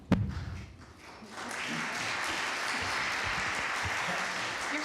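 A crowd at a talk about critical illness experiences breaks into steady applause after a brief thump, the clapping rising to a sustained, fairly loud wash of many hands.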